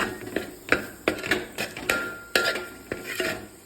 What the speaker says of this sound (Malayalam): നമ്മൾ കുറച്ച് കുരുമുളക് ചതച്ചെടുക്കുവാണ്